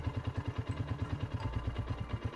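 A Hanway Scrambler 250 motorcycle with a carbureted engine idles close by, a steady low rhythmic thumping pulse with light mechanical clatter, even and unchanging throughout.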